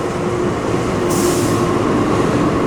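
The Harina passenger train from Surabaya Pasar Turi to Bandung rolls past close by, a loud continuous rumble of wheels on rail with a brief hiss partway through and no talk.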